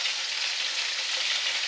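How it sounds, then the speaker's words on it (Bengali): Hilsa fish roe frying in a pan gives a dense, even, hissing sizzle that stays loud and unbroken for a brief stretch, with no voices. "এই ডিমগুলোকে ভাজি করে একটু দিয়ে দেবো।"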